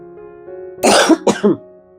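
A sharp, close cough in two quick bursts rises out of a quiet room with a faint steady hum.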